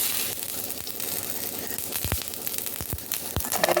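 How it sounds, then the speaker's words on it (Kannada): Chopped onion and tomato fry in hot oil for a sambar, giving a steady crackling sizzle with a few sharper pops and spits toward the end. "ಸೊ ಈಗ ಇಂಗ್ರೀಡಿಯೆಂಟ್ಸ್ನೆಲ್ಲ ಫ್ರೈ ಮಾಡ್ಕೊಳ್ಳೋಣ"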